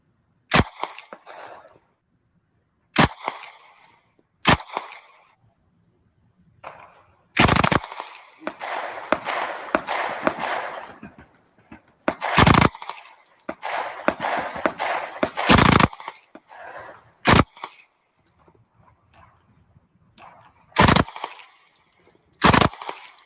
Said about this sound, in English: I got to do a little Thompson submachine gun fire there at the FBI Academy